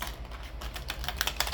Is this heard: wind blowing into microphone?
no